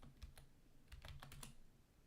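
Fingers tapping a computer keyboard to enter a stock ticker during a live trading session, a quick, faint flurry of keystrokes in two small bursts, close but quiet, with nobody speaking.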